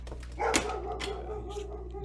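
A dog barks a couple of sharp times at close range indoors, then whimpers faintly, over a low steady hum.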